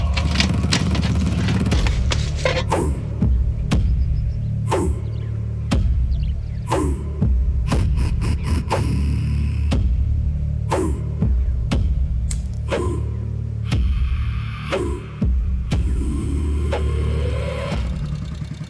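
A car's engine runs steadily throughout a drive, with a low rumbling hum and occasional revving, broken by sharp knocks and clicks.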